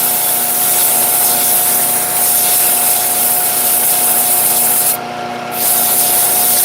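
A bowling pin being sanded, a loud, continuous abrasive rubbing with a steady motor hum throughout and a brief dip in intensity near the end.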